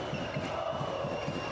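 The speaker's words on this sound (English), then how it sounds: "Constant cheers, constant noise here by this Banderma crowd." A Banvit basketball arena crowd in Bandirma keeps up steady, dense cheering and noise during a Basketball Champions League game, with faint rhythmic thuds beneath the roar.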